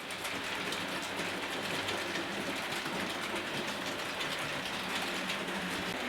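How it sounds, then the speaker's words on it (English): A steady, continuous rumble and rattle of a model electric train running along its layout track, with faint rhythmic clicking throughout and no voices. "pulling the modern electric train"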